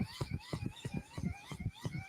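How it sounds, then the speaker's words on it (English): A hand-crank NOAA emergency weather radio sounds its siren: a wavering electronic wail over a rhythmic, pulsing grind from the crank being turned, close and steady for a couple of seconds. "It's a siren, and it'll hand crank."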